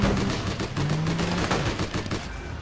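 Drive-by gunfire in a video game, a loud, close barrage of rapid automatic shots rattling continuously with dense overlapping bursts throughout.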